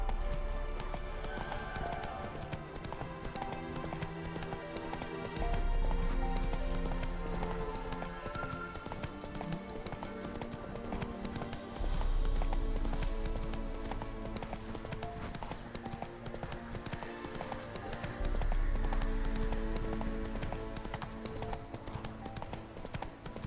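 Roach, a horse in Witcher 3: Wild Hunt, gallops in a continuous rapid clip-clop of hooves, fairly steady in rhythm, with background game music and ambience underneath.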